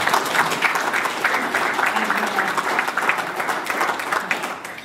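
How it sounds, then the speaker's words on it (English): An audience at a South West Classic Trials Association talk applauds a five-time British Sidecar Enduro champion, steady loud clapping from many hands that holds evenly throughout. "so that's worth a round of applause"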